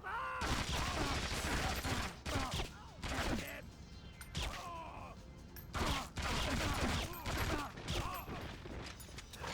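Bursts of P90 submachine-gun fire in the 007: Agent Under Fire Mediterranean Crisis mission, rapid volleys in several clusters with brief pauses, loud and close, mixed with game effects.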